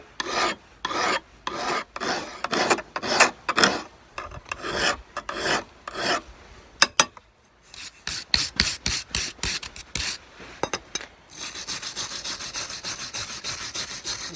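A file rasps across the blade of worn pruning shears held in a clamp, with repeated close, rhythmic scraping strokes, some faster and lighter, then a steadier grinding toward the end, and no talk.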